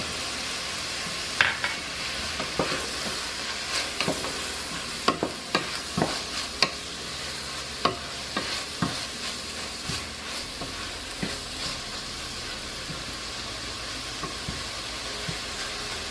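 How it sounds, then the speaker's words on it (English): Garlic sizzles in a pan over medium heat for a pork ragu with softened onions and carrots. A steady frying hiss runs throughout, with scattered sharp pops and clicks as the pan is stirred. "I am cooking this at medium heat and I am going to cook the garlic for about 3 to 5 minutes."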